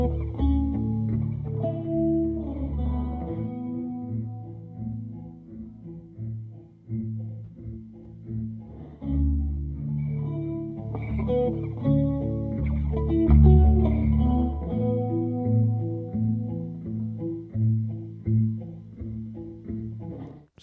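Audio treated with a non-linear reverb plugin, where a warm, low-heavy musical passage picks up a dense, gated room ambience that cuts off abruptly rather than trailing away, continuous for about twenty seconds with no talking.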